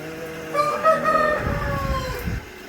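A rooster crows loudly and drawn-out among clucking layer hens on a 6,000-bird poultry farm in Bankura, West Bengal, with a busy, crowded barnyard feel and no voices.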